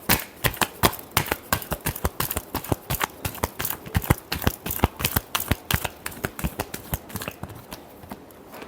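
Tarot cards being shuffled by hand produce a quick run of crisp, papery riffling clicks, close and fairly steady, with no talk over them.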